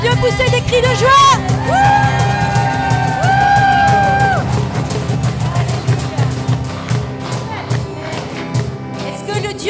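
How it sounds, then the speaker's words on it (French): A church congregation at a French-language worship service erupts in loud joyful shouting: whoops, yells and cheers from the crowd, mixed with long held high cries, sustained for the full length. "Est-ce que je peux entendre le peuple de Dieu pousser des cris de joie?"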